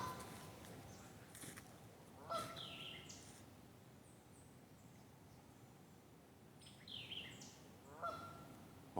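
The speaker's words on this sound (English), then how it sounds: "All I hear is just the goose." A goose honks a few times in the distance along an old train track trail, faint, repeated calls over a quiet outdoor hiss.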